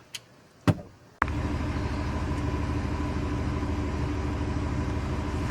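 Steady low engine rumble inside a moving car, close and continuous after a short quiet start with a couple of brief knocks.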